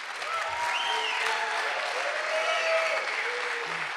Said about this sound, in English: let's make some noise, and help me to welcome our next speaker, Jeffery Gold